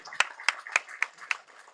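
Audience at a film audio launch clapping, about six sharp, evenly spaced claps close by, heard briefly on their own.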